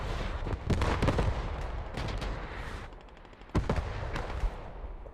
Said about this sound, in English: Not quite sure whose artillery that is, because I see dead bodies on both sides.